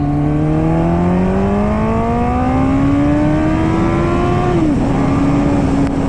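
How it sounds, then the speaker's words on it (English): A Kawasaki ZX14R motorcycle pulls hard in first gear, its loud engine note climbing steadily in pitch up close, then dipping briefly at a shift before continuing over constant wind rush. "We're out here on the ZX14R here, and we are in first gear."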